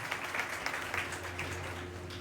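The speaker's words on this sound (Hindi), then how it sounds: "जोरदार तालियों से स्वागत किया जाए" Applause for the chief guest at a Bihar police constable final selection felicitation ceremony, a steady, moderately faint wash of many hands clapping that continues evenly throughout.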